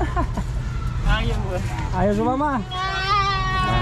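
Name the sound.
goats bleating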